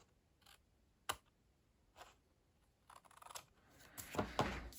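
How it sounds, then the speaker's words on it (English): Scissors snipping paper while trimming a card, a few sparse crisp cuts and then a louder, busier run of cutting near the end, close and quiet with no talk. "So I'll just take my scissors, which have disappeared on the desk, and cut that bit off."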